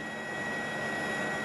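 A civil security helicopter flies over a wildfire zone, its engine and rotor making a steady, even roar with a thin whining tone on top and no voices.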